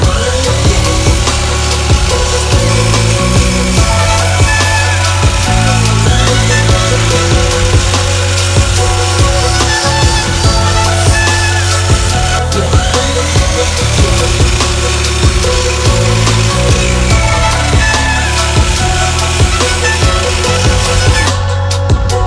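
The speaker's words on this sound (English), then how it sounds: "now I'm going to cross cut all the pieces down using the miter saw" A miter saw cross cutting wood pieces in a workshop, with a continuous loud motor whine and repeated rasping cuts through the wood, close up and steady throughout.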